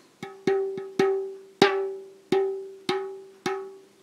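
Seven taps on a small planar magnetic loudspeaker panel from a B&G Neo 8, each a sharp hollow drum-like knock with a clear ringing tone that fades quickly, evenly spaced and close.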